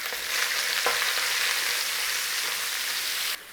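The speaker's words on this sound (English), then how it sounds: "In with your onion and garlic." Onion and garlic frying in a pan alongside shredded beef for a pie filling, a continuous loud hissing sizzle that cuts off abruptly near the end.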